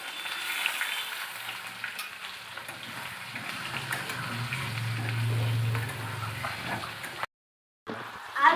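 Potato pieces frying in oil for a handi chicken dish, with a steady sizzle and occasional stirring scrapes at close range, broken by a brief silence near the end.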